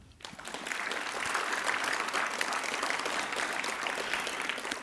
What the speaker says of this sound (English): This deserves a clap.